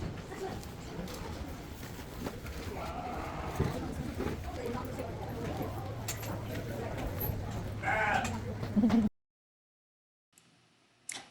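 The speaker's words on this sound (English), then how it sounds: "check out the sheep in the barn and listen to their cute little buzz" Sheep bleat repeatedly in an echoing barn with a steady background hum, a few calls standing out before the sound cuts off.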